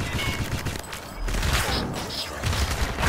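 Sustained gunfire from the Crysis video game, a dense fusillade of automatic weapons with booming low thuds and dense game battle noise throughout.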